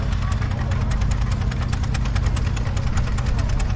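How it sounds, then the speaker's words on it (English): An Allchin 3-inch miniature steam traction engine rolls past at a steam rally, giving a steady low mechanical rumble and chuffing vibration that stays close and loud throughout, with no gaps. "And number one, just going past the commentary box right now, Royal Tractor."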